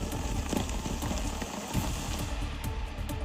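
Heavy rain pouring down in Manali, Himachal Pradesh: a steady, dense, loud hiss of falling water with irregular patters, unbroken and without voices.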